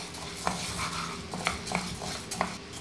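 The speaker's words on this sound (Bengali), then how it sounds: "এই গরম কড়াইয়ের মধ্যেই আমি দিয়ে দেবো বিউলির ডালগুলো। এগুলোকে আমি ততক্ষণ ভাজবো" Urad dal roasts dry in a hot kadai, a soft continuous rustle punctuated by a few light clinks of a spoon against the pan, fairly quiet and close.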